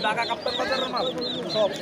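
Silkie chickens cluck at a busy poultry market (haat) in Narayanganj, with short, close calls mixed into nearby voices and crowd chatter.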